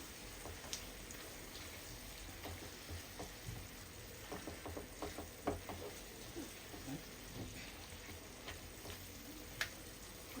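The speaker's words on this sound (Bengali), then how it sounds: "এবার ভালো মতন এটাকে পেঁয়াজ আর এটার সাথে মিক্স করছি" Sauces and onion are stirred together in a pan on a gas stove, giving a faint steady sizzle with soft scattered scrapes and taps of the spoon.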